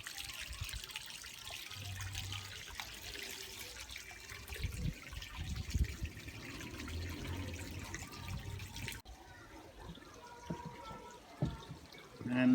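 A small garden pond waterfall at a nursery school trickles and splashes softly, a faint steady dribble of water with gentle outdoor background, continuous throughout.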